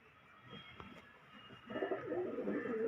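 Pigeons coo in a breeder's loft in Nangloi, Delhi: soft, low rolling coos, faint at first and then louder and more continuous, close by, with no talk.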